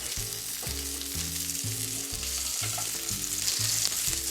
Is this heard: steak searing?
yes